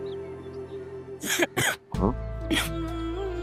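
A few harsh coughs and throat clearing, close and fairly loud, over a steady low background hum.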